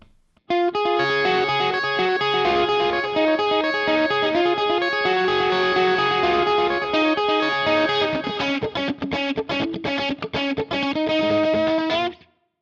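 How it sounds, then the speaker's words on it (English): Heavily distorted electric guitar riff played through a Mesa Boogie Rectifier cabinet, loud and dense, chugging steadily with tight palm-muted stops near the end. "And then we hear the intro with our Recto Mesa Boogie cab."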